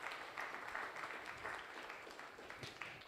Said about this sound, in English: let's just give one next round of applause